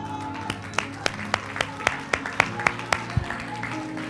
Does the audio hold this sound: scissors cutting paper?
no